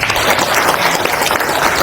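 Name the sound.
audience applause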